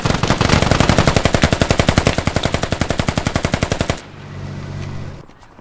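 Rapid machine-gun fire in the military shooter game Squad, a long even burst of about forty loud close shots that stops abruptly, followed by a short lower rumbling tail.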